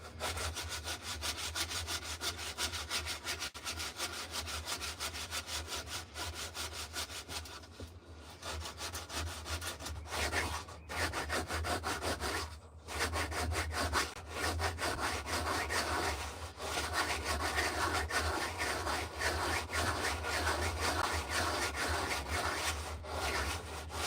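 A hand tool carves and rasps along the edge of a dried wooden spoon in a workshop, making continuous rhythmic scraping strokes with a few short pauses, close and steady, with no talking.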